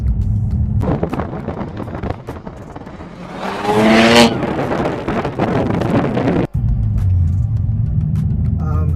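A turbocharged BMW 335i engine with stage 2 turbos, intake, tune, exhaust and front-mount intercooler revs up loudly, rising in pitch to a peak and dropping, with wind rush and road noise throughout.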